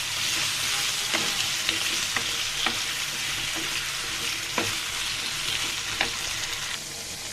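Papaya frying in a pan gives a continuous hissing sizzle, broken by evenly spaced spatula scrapes and taps at roughly half-second intervals, close and moderately loud, with no talking.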